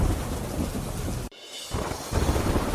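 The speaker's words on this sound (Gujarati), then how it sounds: "રાજકોટના ઉપલેટામાં ખાબક્યો ભારે વરસાદ" Heavy rain pours down in Upleta, Rajkot, as a dense, loud, continuous roar that drops out for a moment and then resumes at full strength.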